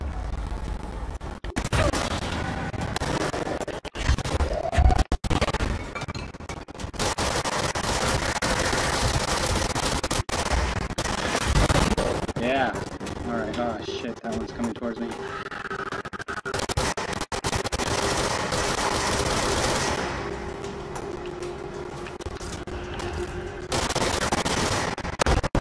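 Gunfire rips through the video game Control in bursts of rapid automatic shots and heavier blasts, loud and dense across most of the stretch with brief pauses between volleys.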